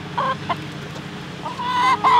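Backyard chickens clucking close by, a few short bursts of clucks early on, then louder, more sustained calls toward the end, with no talking.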